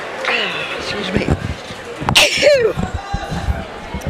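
A single sharp sneeze bursts out near the microphone in an announcer's booth at a high school boys' swimming and diving sectional final. Talk and murmur run before and after it.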